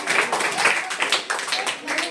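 Classroom of students applauding energetically, a dense continuous patter of many hands clapping at close range for about two seconds.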